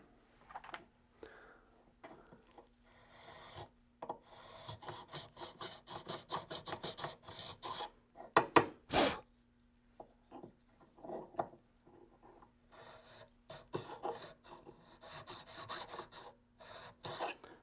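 A hand file rasps across wood in quick repeated strokes, a steady scraping rhythm, close by, with a couple of sharper knocks midway.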